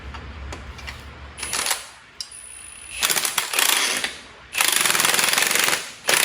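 Impact wrench tightening coilover bolts during a lift install on a truck, several loud rattling bursts of a second or two each with short pauses between, close up and with no talking.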